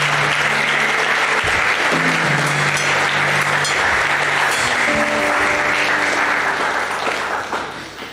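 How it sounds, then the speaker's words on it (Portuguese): A church congregation breaks into strong sustained applause, a dense wash of clapping that holds steady and fades at the end, with a few voices audible underneath. "Dê um forte aplauso ao Senhor."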